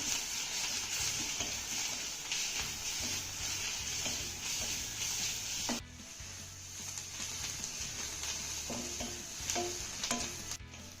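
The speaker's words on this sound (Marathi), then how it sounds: "हा ठेचा ना आपल्याला एक ते दोन मिनटं चांगला परतून घ्यायचा आहे" Crushed green chili thecha frying with gram flour in a pan, a steady sizzle with scraping stirring strokes, close and continuous with a brief dip midway.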